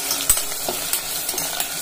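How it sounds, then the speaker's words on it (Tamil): Two sliced onions sauté in oil for a mutton biryani, a close, continuous sizzle with light, irregular stirring scrapes. "ரெண்டு வெங்காயம் கட் பண்ணி வச்சிருக்கேன் நீல வாக்குல, வதங்கிட்டே இருக்கட்டும்"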